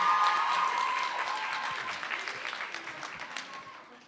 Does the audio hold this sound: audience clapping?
yes